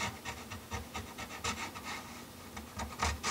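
Small triangular file rasping a fret slot chamfer on a 66-year-old Gibson guitar's wooden fretboard, quick rhythmic back-and-forth strokes, close and clear, with no voices.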